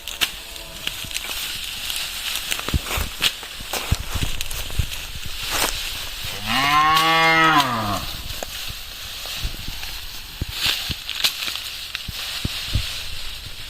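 A cow on a small farm gives a single drawn-out moo near the middle, fairly close, amid rustling, footsteps and crunching of plants being cut, with no talking.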